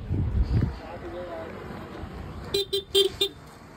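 A car arrives on a pilgrimage outing to Trimbakeshwar near Nashik and sounds its horn in three or four short, clear toots. Wind and low road rumble sit behind the honks, and people chat nearby.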